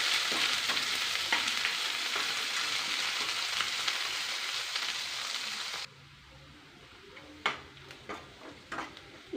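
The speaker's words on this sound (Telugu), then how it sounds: "సన్నగా తరిగిన ఉల్లిపాయ ముక్కలు వేసి కలర్ మారే వరకు ఫ్రై చేయాలి." Thinly chopped onions fry with dried red chillies and tempering spices in a pan for an egg fry, giving a steady close sizzle that drops abruptly partway, followed by a few stirring clinks.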